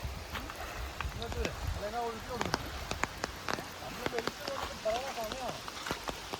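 Steady rain patters on a surface outdoors, with scattered drops and a faint tonal murmur in the background.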